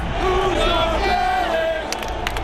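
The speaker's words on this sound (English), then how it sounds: "fans in the Bronx greeted a familiar foe with a fresh cheer" A loud stadium crowd of Yankees fans in the Bronx roars and chants together through the whole stretch, a dense, sustained wall of voices with a few sharper peaks near the end, during a 2004 playoff game against a familiar rival.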